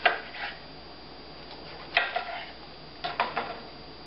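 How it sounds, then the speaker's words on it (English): Knife chopping through raw spring rolls on a cutting board: a few crisp, separate cuts spaced apart, quiet and close, with no talking. "Just chop them up."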